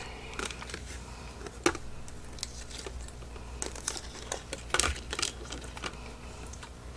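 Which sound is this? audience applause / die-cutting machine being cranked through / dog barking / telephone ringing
die-cutting machine being cranked through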